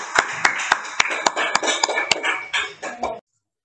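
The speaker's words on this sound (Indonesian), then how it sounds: "Baik, tepuk tangan untuk semuanya" A class of students claps in a classroom, sharp separate hand claps ringing out in an uneven rhythm for about three seconds before stopping abruptly.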